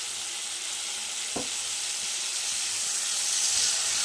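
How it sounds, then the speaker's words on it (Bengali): Spice paste for a chicken and papaya curry sizzles steadily in a pan as it is stir-fried, a continuous close frying hiss with a few soft scraping stirs and no voices. "সুন্দর করে নাড়াচাড়া করে মশলাটা কষিয়ে নিতে হবে।"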